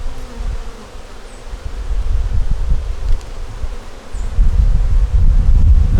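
Honeybees buzz steadily around a hive as cooler weather approaches, a dense continuous drone close to the microphone with some wind rumble beneath.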